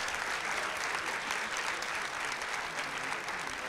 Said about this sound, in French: On applaudit une dernière fois les vainqueurs